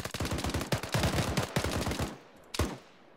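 Rapid bursts of automatic gunfire in a military video game defence mission, loud and close, in dense overlapping volleys for about two seconds, then a short pause and one final burst before fading into quiet.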